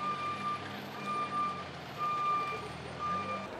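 A new fire truck is pushed back into a fire station while its reversing alarm sounds, repeated evenly spaced high beeps over a low, steady engine rumble.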